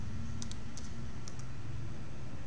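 Quiet computer keyboard as a sudo command is typed on a Linux system: a few light, close key clicks in quick pairs over a low steady hum, with no one speaking.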